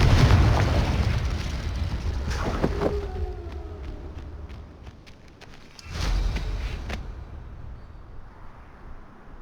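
Confringo fire spell explosions in Hogwarts Legacy, a deep rumbling blast fading over a couple of seconds, then a second heavy boom near the middle, with a lingering low roar between them.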